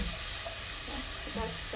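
Sliced ginger and chopped onions fry in a pan, a brief, dense, loud sizzle that holds steady throughout with no voices.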